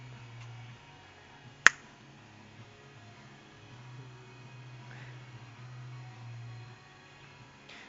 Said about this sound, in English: you can listen to the absence of the sound of the snap of fingers